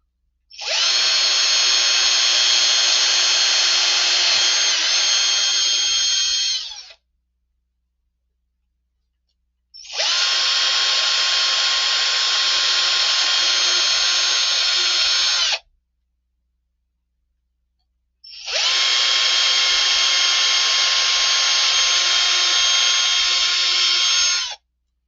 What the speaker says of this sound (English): And we'll just drill these out.